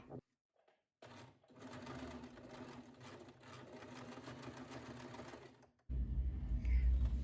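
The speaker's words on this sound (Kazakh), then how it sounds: "Қалған, тігілмей қалған жерін тігіп шығамыз." Sewing machine closing the unstitched part of a zippered cosmetic bag: a steady mechanical whir for about five seconds, then a loud low rumbling thud of handling noise.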